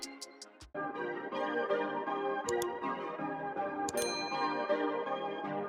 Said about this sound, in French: Activez la cloche de notification aussi.